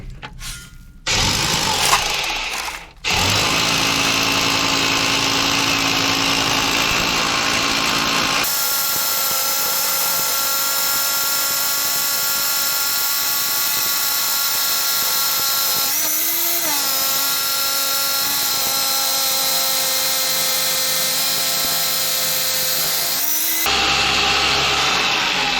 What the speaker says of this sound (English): Going to drill some holes.